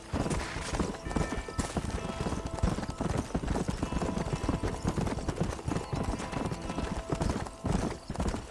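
Horse hooves clip-clop at a steady gallop in the Western video game Red Dead Redemption, loud and continuous, with occasional whinnies and a music bed underneath.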